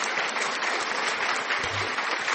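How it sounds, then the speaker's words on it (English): Applause greets a podcast guest arriving in the studio, a short burst of dense, close clapping that holds steady from start to finish. "A round of applause."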